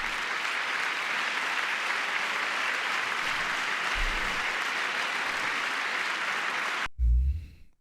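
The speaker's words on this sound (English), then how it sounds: "So notice all the clapping" Dense, steady applause fills a congressional chamber during a presidential address, continuing evenly for several seconds before cutting off abruptly near the end, followed by a brief low thump.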